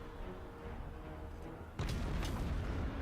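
Cannon fire in a fantasy strategy battle game involving Kislev, a sudden deep boom partway through followed by rumbling battle noise, after a low steady background.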